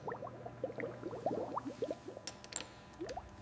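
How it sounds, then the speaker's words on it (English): Fresh brake fluid filling a motorcycle brake master cylinder during a rebuild, heard as a run of small, close liquid squishes and bubbling plops in an irregular patter, with a few faint clicks toward the end. "Filling the brake master cylinder with fresh, clear fluid"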